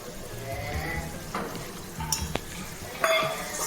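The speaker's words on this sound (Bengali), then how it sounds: "আদা বাটা যেটা বললাম দিয়ে দিলাম এর মধ্যে টমেটোটাও আছে" Ginger paste and tomato frying in a pan, a soft sizzle under scattered stirring scrapes and a few sharp utensil clinks against the pan, close and fairly quiet, with no talking.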